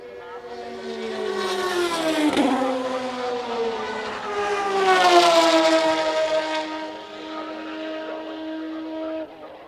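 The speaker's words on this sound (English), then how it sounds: "And they come around the top corner of the last bend, and a good lead there for Cian Carey." Formula BOSS race cars at Bishopscourt circuit in Ireland scream past on the track, their high-revving engines rising and falling as they sweep by, with a race commentator speaking over the noise.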